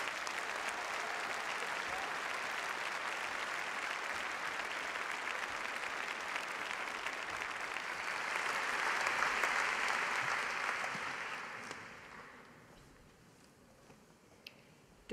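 A large audience applauds graduates at a university postgraduate graduation ceremony, steady dense clapping that swells briefly before thinning out and fading near the end.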